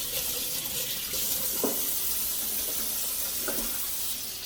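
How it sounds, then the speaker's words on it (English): Tap water runs steadily into a sink as hands are washed in a home kitchen, a constant splashing wash with a couple of brief clinks and knocks, no talking. "now I'm going to wash my hands real good"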